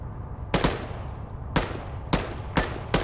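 Short bursts of gunfire in the military shooter ARMA 3, four or five sharp volleys spaced irregularly over a low rumbling background, close and loud.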